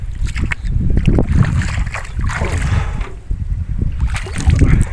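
A wooden rowing boat moves on the Buri Tista river, with close water sloshing and splashing against the hull mixed with gusty wind rumble on the microphone and a few faint voices.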